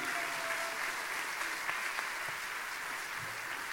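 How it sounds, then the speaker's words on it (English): Steady applause from an audience at a 2018 gaming tournament award ceremony, a fairly quiet, distant wash of clapping that holds evenly throughout. "we have a new King of Speed, which I think need to stand up and take an applause, which is Nick"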